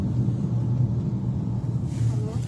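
A car tailing someone on the road gives off a steady, low engine rumble that stays close and continuous, with no voices over it.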